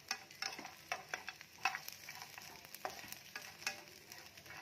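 Dried bombil fish roasts over a low flame in a pan, giving a faint, soft crackle with light intermittent stirring scrapes.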